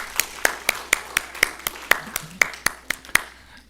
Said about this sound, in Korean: 우리 박수로 Congratulations,